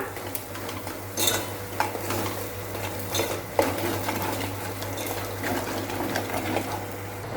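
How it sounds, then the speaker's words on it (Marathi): Potato curry spices with Kashmiri chilli powder are stirred and sautéed in a pan, a continuous busy sizzle with repeated spatula scrapes and metallic clinks over a low steady hum, close by and with no talking. "आता हे सर्व आपण व्यवस्थित परतून घेऊया"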